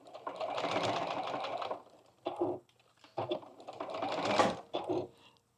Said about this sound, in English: But let's go sew these.